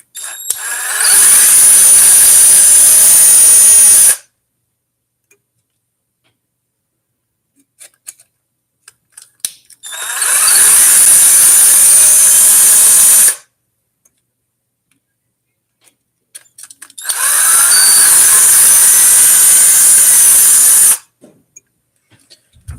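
Power tool backing out screws from a seized drivetrain gear: three loud, close, high-pitched whirring runs of about four seconds each, separated by quiet gaps with faint clicks and handling noise.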